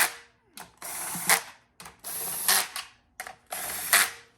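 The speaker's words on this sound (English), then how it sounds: "that sound you heard was just the pan collapsing over a couple of the threads on the bolts" A series of short metallic ratcheting clicks in bursts, close and fairly quiet, as a GM 4L60E transmission pan seats over bolt threads, with pauses between them.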